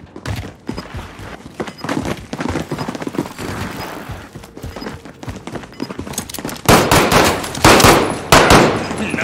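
Bursts of automatic gunfire in a shooting video game, rapid rattling volleys with single shots mixed in, growing louder and denser toward the end.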